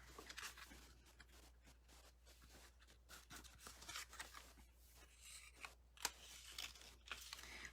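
Scissors snip through designer paper for a mini album project, a faint close series of crisp cuts and rustles with uneven rhythm.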